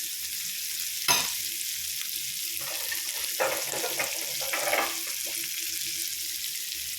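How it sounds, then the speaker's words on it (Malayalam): Ingredients for a white sauce pasta sauce sauté in a pan on a medium flame, giving a steady, even sizzle with a sharp knock and a few soft stirring scrapes. "മീഡിയം ഫ്ലെയിമിലിട്ടിട്ടോ ഇത് വഴറ്റിയെടുക്കാവുള്ളൂ"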